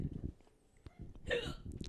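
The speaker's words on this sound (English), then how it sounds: "I'll show you how I get rid of hiccups." Single sharp hiccup heard up close, a short gulping catch near the middle, with people talking around it.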